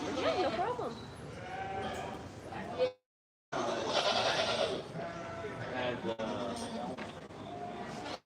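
Boer goats with horns bleating at a county fair livestock show, several wavering calls close by and overlapping, with people talking nearby and a brief gap midway.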